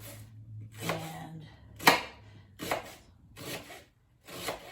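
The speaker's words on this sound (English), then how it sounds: "this is a nice way to cut onions all the time for any soup" A knife chops onions into small pieces for pumpkin soup, giving several separate scraping and knocking strokes on a cutting board at an uneven pace, close and fairly quiet, with no talking.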